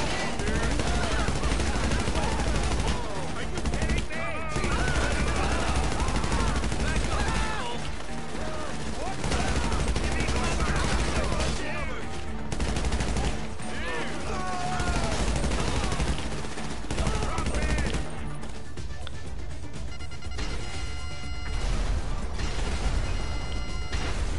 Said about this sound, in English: Why is it shooting at me?